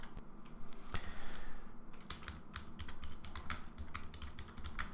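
A computer keyboard is typed on in quick, irregular clicks, close and fairly quiet, with short pauses between bursts of keystrokes.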